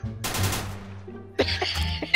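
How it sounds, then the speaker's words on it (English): Explosions in the Garry's Mod sandbox game: a loud blast with a noisy burst fades out, then a second sharp detonation hits with crackling debris, close and heavy. "Why is this still exploding?"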